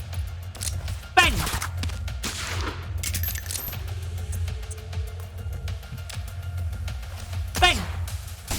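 Support-fire gunfire barrage in the video game Reverse Collapse Codename Bakery, sharp bursts of shots with two louder impacts near the start and end, heard under a talking voice.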